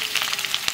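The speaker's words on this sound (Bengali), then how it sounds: "পেঁয়াজ ভাজে নিচ্ছি" Onions frying in hot oil with bay leaf and black cumin, a steady close crackling sizzle with brief louder pops, no voices.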